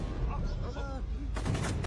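Gunfire from a shootout in an action film about hunting drug lords across Asian countries, heavy sustained blasts filling the scene over a dense, noisy score with other effects.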